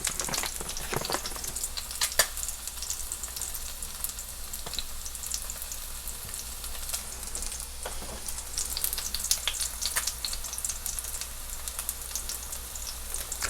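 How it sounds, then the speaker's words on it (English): Steady crackling sizzle of rice frying in a hot pan, continuous and close, with occasional sharper pops and no voices. "I think I may actually want to fry the rice."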